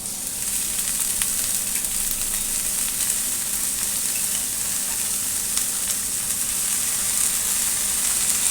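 Saag greens fry and sizzle in a pan, a steady, close crackling hiss with faint stirring scrapes throughout and no voices.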